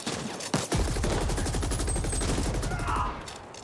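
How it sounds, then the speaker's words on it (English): Sustained rapid gunfire fills the shooter game The Ascent as the player fires from behind cover, a dense rattling burst running nearly four seconds after a brief opening shot, loud and steady with no talk. "I'm taking cover and I'm still shooting this guy while I'm kind of behind cover"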